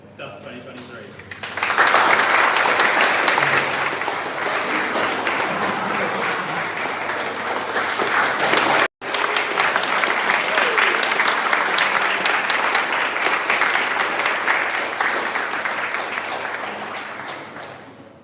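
Sustained audience applause and cheering at the Durham DUSC 2023 student car reveal, a loud dense wash that swells in after a brief spoken word and holds steady for over fifteen seconds before tapering slightly.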